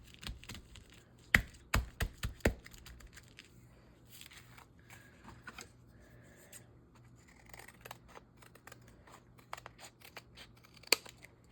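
Scissors trim paper for a junk journal: a quick run of four or five crisp snips near the start, then quieter rustling handling and one more sharp cut near the end. No one speaks.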